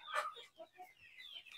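Free-range village chickens cluck softly in a rural yard, a few short irregular clucks and squawks at moderate distance, faint and without speech.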